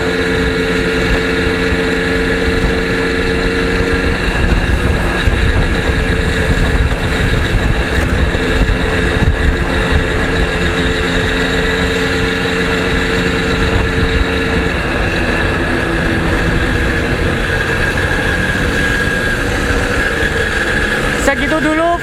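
DKW Hummel Super and DKW Hummel TS motorcycles ride along a quiet road in light rain, their small engines droning continuously and loudly with wind noise as one bike passes the other.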